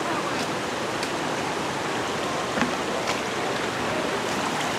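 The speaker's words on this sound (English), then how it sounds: "So this is the top of the waterfall." Steady rushing water roars continuously at the top of a waterfall at Wilderness Lodge, Lake Buena Vista, a broad even hiss of falling water with no pauses.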